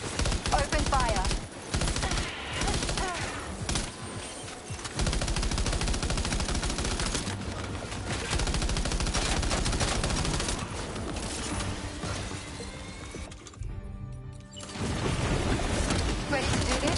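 Gunfire in the game Death Stranding: sustained dense automatic fire and clattering shots, loud and continuous, with voices talking over the shooting.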